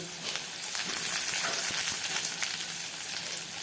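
Mustard seeds, cumin, onion, dried red chilli and curry leaves tempering in hot oil in a home kitchen, giving a steady, busy sizzle with scattered sharp crackles and pops throughout, fairly close and without talk.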